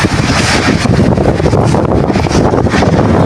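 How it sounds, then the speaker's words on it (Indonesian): Strong wind during a storm in Gunung Kidul regency, Indonesia, roaring loud and continuous as heavy buffeting gusts batter the microphone, with a broad rumbling rush throughout and no speech. "Angin kencang yang terjadi di Kabupaten Gunung Kidul juga menimpa beberapa wilayah lainnya."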